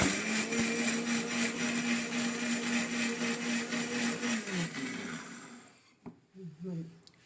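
Mixer grinder whirring steadily as it blends mustard seeds with curd for pachadi, a loud continuous motor drone that cuts off near the end, followed by a few brief knocks and handling sounds.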